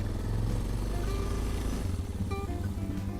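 Suzuki DR650 motorcycle engine pulling uphill, a steady loud rumble close by that shifts pitch partway as the rider changes gear, with no talking.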